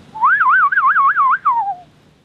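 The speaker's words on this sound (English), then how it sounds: "Number 2, the whistling technique." A loud, high whistling tone from a didgeridoo's whistling technique wavers rapidly up and down in a looping, siren-like warble, then glides downward and stops.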